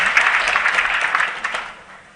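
A crowd at a public event in Bomet applauding for the Deputy President, a dense wash of clapping that holds steady, then thins and fades near the end.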